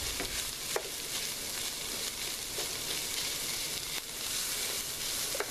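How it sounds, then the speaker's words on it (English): Ground meat browning in a pan, a steady, close crackling sizzle with a few scraping clicks as it is stirred, no talk over it. "I'm just going to give this a stir."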